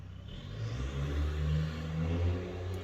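Loud motorbike heard through an open window on a hot day, a low engine drone that swells and rumbles steadily as it passes at some distance, with no talk.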